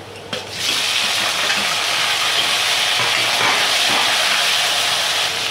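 Two tomatoes drop into a hot pan of oil with hing for sambar, giving a loud, steady broadband sizzle that swells after a brief start and holds evenly throughout, with no talking.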